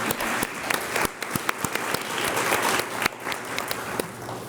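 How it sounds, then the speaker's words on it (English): Applause from a modest group at a school board candidate forum, with individual sharp claps standing out over a softer wash of clapping, steady throughout. "Another round of applause for Kalina."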